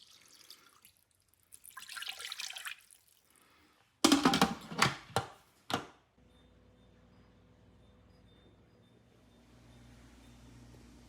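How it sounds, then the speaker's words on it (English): Liquid pours and splashes over a turkey breast in a baking dish: a loud burst of several close, uneven sloshing pulses about two seconds long, between quieter rustling before and a low steady hum after. "I'm going to pour 1 cup of broth over this."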